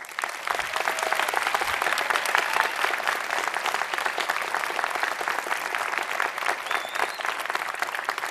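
Steady applause from a large audience honouring the mothers present carries evenly throughout, dense and continuous with no speech over it.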